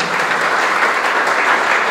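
Steady, dense applause from an audience at a biology olympiad award ceremony, loud and continuous throughout with no voices above it.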